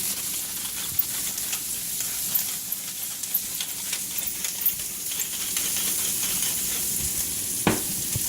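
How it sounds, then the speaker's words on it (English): Onions sautéing in a pan for smothered pork chops give a steady, close sizzle and fry hiss throughout, with occasional small clicks and stirring sounds and no talk. "Oh, I love sauteed onions."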